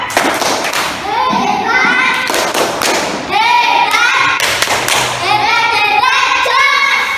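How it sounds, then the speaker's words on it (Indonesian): Classroom of children clapping together, a dense rhythmic burst of hand claps mixed with lively kids' voices and chanting, loud and close throughout. "Kita beri tepuk tangan."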